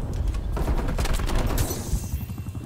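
Sustained RPD machine-gun fire in a video game, a dense rapid burst of shots that runs almost unbroken for nearly three seconds, loud and close, with rumbling booms underneath and no talking.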